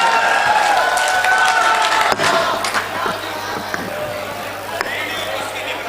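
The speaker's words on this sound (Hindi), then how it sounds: "इसके लिए जोरदार तालियां भाई।" Mushaira audience in a poetry gathering hall, sustained applause and crowd noise with scattered cheers throughout, loud and continuous, easing slightly after a sharp clap burst midway.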